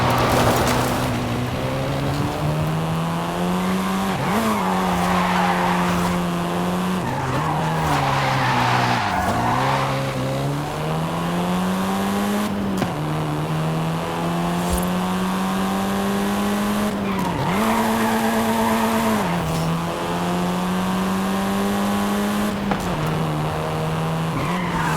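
Car in the video game Forza Horizon 5 driving hard with a steady engine note, shifting pitch repeatedly as it accelerates and lifts, with tire squeals and skids cutting in several times.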